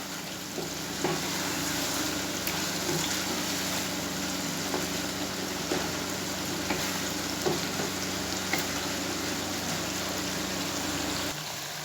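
Chicken karahi masala with mustard paste and crushed red chili being fried in oil, a loud, even sizzle running throughout with occasional faint stirring clicks and no speech.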